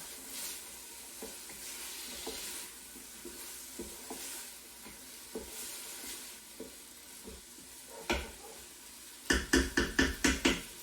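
Onions cooking in a pan for green pea soup, a quiet steady sizzle broken by soft irregular stirring scrapes, ending in a run of sharper rhythmic knocks near the close.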